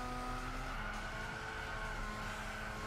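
A car drifting in the racing game Gran Turismo 6 on PS3, with a steady engine drone and a sustained tire squeal running through the corner, even in loudness and with no voices.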